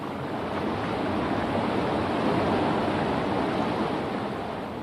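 Water pours steadily over a small fall into a stream below, a loud, continuous broadband rush without breaks.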